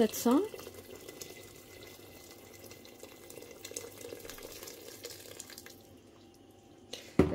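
Boiling water streams from a vessel into a pot of harira soup, a steady liquid pour heard close up, framed by brief bursts of speech at the beginning and end.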